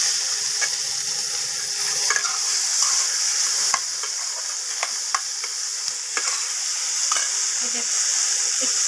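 Green chilli, chopped onion and tomato frying in a pan with a loud, dense, steady hiss, punctuated by sharp clicks and scrapes of a spoon stirring, close by and without speech.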